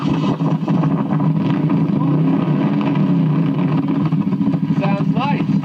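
A Moto Guzzi Griso motorcycle engine idles steadily close by, a low, throbbing rumble that holds even throughout.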